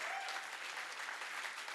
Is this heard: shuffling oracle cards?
no